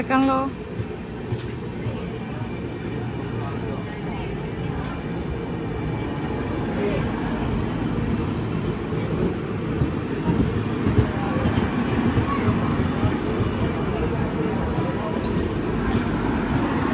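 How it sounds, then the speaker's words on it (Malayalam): A train arriving at a railway station rumbles steadily at length, a continuous low mechanical roar with faint clanks, while a few voices speak now and then. "അപ്പൊ അവരുടെ ട്രെയിൻ എത്തിപ്പോയി"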